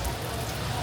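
Steady rain falling all day in Hue, Vietnam, near the imperial palace moat and walls: a dense, even wash of drops that stays constant at moderate level throughout the short stretch, with no voices.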